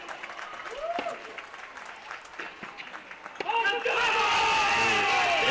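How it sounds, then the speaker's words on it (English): A crowd at a men's college tennis match breaks into applause and cheering that swells sharply near the end, heard behind commentators' talk. "You might know from the crowd noise that's echoing on our headsets."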